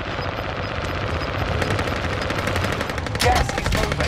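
Rapid automatic gunfire in Call of Duty: Modern Warfare, a dense, continuous chatter of shots with a louder burst near the end, no talk over it.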